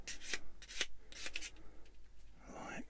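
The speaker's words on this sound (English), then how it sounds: "Quick little dress up with the sander." A sander dresses up a leg part on an eModels Cat-Cat model kit, giving a few short, close rasping strokes separated by brief pauses, with no talking.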